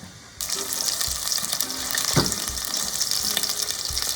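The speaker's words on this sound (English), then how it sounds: "So I wanted to sear the meat so that way it holds the flavor inside." Beef pieces searing in hot oil for a stew, a loud, steady sizzle that bursts in suddenly and holds with crackling spits and a few scrapes throughout.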